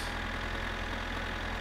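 A tractor engine idles in the My Summer Car video game, a steady low rumble holding even and close throughout the short stretch with no voices.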